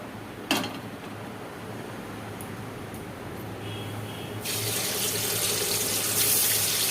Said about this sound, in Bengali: এবার আমি মাংসটা ভাজবো, চিকেনটা ভাজবো। তেল গরম হয়ে গিয়েছে।